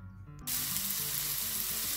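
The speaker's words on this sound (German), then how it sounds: "In einer Pfanne habe ich nun 2 Esslöffel Rapsöl erhitzt. Darin schmore ich unseren Lauch, Porree, an." Leek braising in heated rapeseed oil in a pan gives a sudden loud sizzle after a brief quiet moment, then a steady, close frying hiss that continues without pause.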